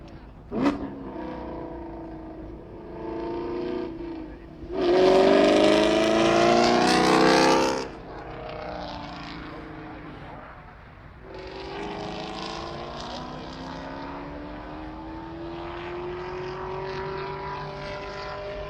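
A Toyota Supra race car passes on a circuit's main straight, its engine note rising to a loud, close roar for a few seconds, then fading to a steady distant drone that keeps sounding.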